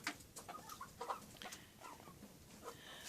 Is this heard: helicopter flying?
no